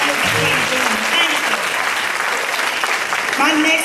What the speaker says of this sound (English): Give a round of applause for Martin Luther King Jr.